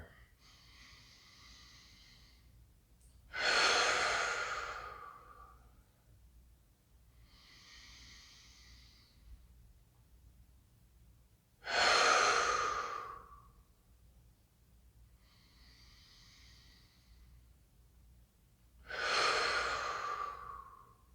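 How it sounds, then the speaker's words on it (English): Deep clearing breaths during a yin yoga practice: three long, loud exhales, each a rushing sigh of air, spaced several seconds apart with quieter inhales between them in a still room. "Just 4 of these clearing breaths to just kind of release all the stress of the day here."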